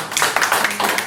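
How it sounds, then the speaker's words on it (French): A short stretch of clapping from a live show audience applauding for Roger, with a few distinct hand claps in an uneven rhythm, fairly close. "On peut applaudir très fort Roger"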